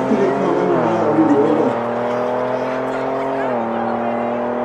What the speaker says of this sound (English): Amarok V6 going up against the Ford Ranger Raptor